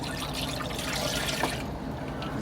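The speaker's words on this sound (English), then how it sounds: "Just add Cuervo tequila. Alright, so I think I'm gonna pour this in here." Jose Cuervo tequila poured from the bottle into margarita mix in a pitcher, a steady close liquid gurgle and trickle lasting a couple of seconds, then easing off.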